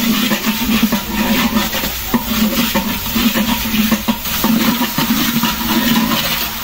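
Ginger paste stirred and fried in a pot, with loud continuous sizzling and repeated scraping strokes of a spoon against the metal.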